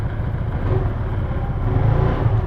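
A Rusi Sparkle 125i scooter engine, a 2024 model, runs with a steady low rumble that swells slightly as it revs, close and continuous, with no talk.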